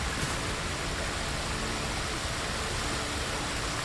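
A waterfall in the video game Ghost of Tsushima gives a steady, dense wash of rushing water that stays even and unbroken, with no voices over it.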